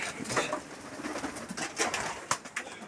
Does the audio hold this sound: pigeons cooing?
yes